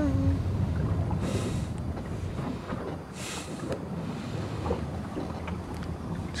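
Wind and waves at sea, heard aboard a sailboat crossing the Bay of Biscay: continuous rushing wind buffets the microphone, with louder gusts and wave washes swelling through the steady roar.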